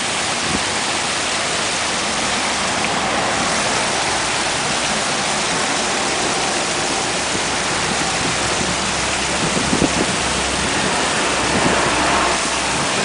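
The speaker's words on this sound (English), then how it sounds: "Hear the water." Continuous loud rush of flowing water from a hotel waterfall in Hawaii, a dense steady roar close by that holds unbroken throughout with slight swells near the end.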